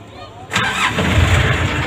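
A car engine cranks and catches after a clutch release bearing replacement, then runs at a rough, loud idle close by, with a voice briefly audible.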